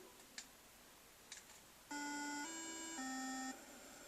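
Star Raiders video game chime, a three-note descending sequence much like the NBC chimes, clear and bright after two faint clicks, with no talk.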